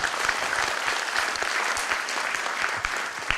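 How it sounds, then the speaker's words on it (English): Steady audience applause at a conference talk on virtual reality ROI and monetization, a dense, sustained wash of many hands clapping at an even level throughout. "Let's do a big round of applause there, Rajat."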